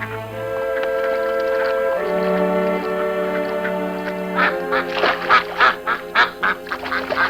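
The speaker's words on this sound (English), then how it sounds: "Ducks weren't all that easy to catch, it seemed." Ducks and ducklings in an Arctic setting quack in a rapid, choppy burst of loud repeated calls. Tonal honking sounds come before it.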